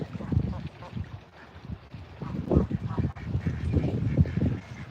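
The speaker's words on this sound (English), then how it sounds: "Got the best duck crew here, I swear." A crew of ducks and geese in a backyard pool quack and honk in uneven bursts, some calls loud and near, over a busy, splashy background.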